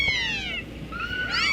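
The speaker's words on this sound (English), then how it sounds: "Here's a bunch of silly kittens and a mama cat raising an orphaned baby squirrel" Kittens and a mother cat meow in high, drawn-out calls up close, one cry fading away before another rises and overlaps it, with a faint murmur of background noise underneath.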